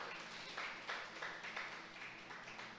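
A church congregation claps in a steady, rhythmic beat, faint and somewhat distant, the claps blending into a soft wash of sound.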